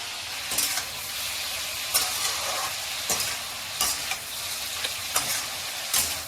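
Spices, onion, bitter gourd and potato frying together in a pan, a continuous low sizzle broken by regular scraping stirs of a spatula roughly every second, with no speech.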